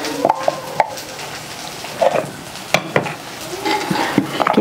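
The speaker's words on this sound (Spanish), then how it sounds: "vamos a cortar pedacitos de hongo." Deer horn mushroom being chopped into small pieces on a board, with sparse, irregular close knife taps over a steady background hiss.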